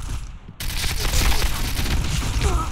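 K1 rifle fire in the video game Point Blank: a dense, loud burst of gunfire starts abruptly after a brief lull and rattles on without a break over busy game noise.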